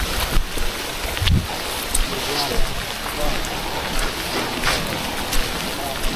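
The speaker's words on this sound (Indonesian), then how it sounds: "Makin deras hujannya" Heavy rain pours steadily over an oil palm plantation during a fishing trip, a dense continuous hiss with scattered drop impacts and a low rumble throughout.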